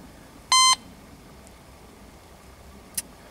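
A Teknetics Delta 4000 metal detector gives a single clear electronic beep as it powers on, followed by a faint, very short blip a few seconds later against quiet background hum.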